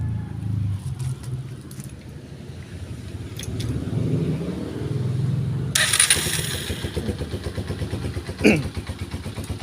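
A motorcycle engine cranks and catches, then settles into a steady idle with a rapid, throbbing putter.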